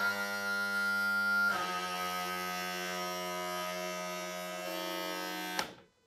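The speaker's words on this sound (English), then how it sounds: "we're gonna trim the motor up so that we have easier access" Electric power trim on an outboard motor raises the motor, giving a steady, close motor hum that holds for about five seconds and then cuts off abruptly.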